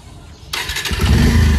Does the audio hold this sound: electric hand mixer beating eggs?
no